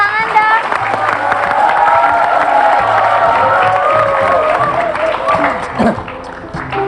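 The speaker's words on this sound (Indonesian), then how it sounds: "tepuk tangan dong" Studio audience of a television talk show applauding and cheering, a loud crowd wash with whoops and clapping, while a voice and music run underneath before it settles.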